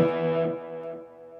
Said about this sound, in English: So now I've got a Echoplex emulation on my Line 6 HX Stomp.